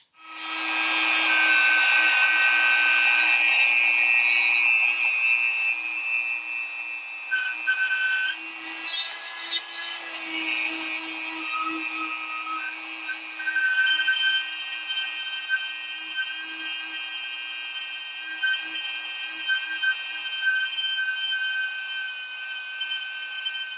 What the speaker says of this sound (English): I'm chucking up one of my tungsten carbide real Dremel bits to go after that